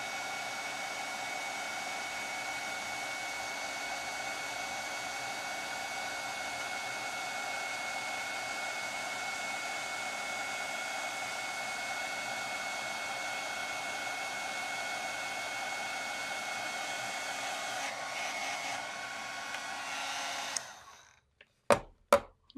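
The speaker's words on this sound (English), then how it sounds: "let me warm up my heat tool and we can melt the powder" A heat tool blows a steady, loud hairdryer-like whoosh while melting embossing powder on a card greeting, running unbroken for about twenty seconds before switching off with a few clicks.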